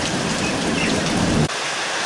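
Steady broadband rain pours down outdoors during a nearby thunderstorm, a dense continuous hiss that suddenly thins and drops in low-end weight near the end.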